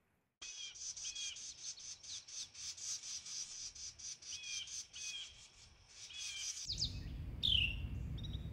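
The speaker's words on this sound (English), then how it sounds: "Carolina wrens are feisty birds with a variety of calls and a lovely song." A Carolina wren repeats rapid chirping call phrases in a steady rhythm, fairly faint and outdoors, followed by a louder burst of rustling noise and a sharp closing call.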